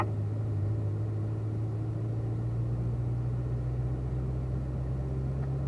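A car in automatic mode with rev match on rolls onto a race track, its low steady engine drone and road rumble continuous and close throughout, with no talking.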